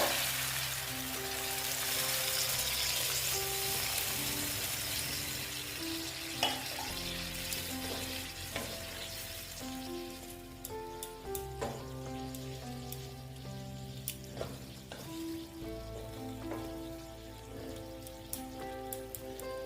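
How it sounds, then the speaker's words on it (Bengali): A pan of koi fish curry with potato, cauliflower and lentil dumplings sizzles and crackles steadily after hot water is poured in. The bubbling hiss runs close and continuous, with faint scattered clinks and no voices. "আমি এখানে গরম জল অ্যাড করব"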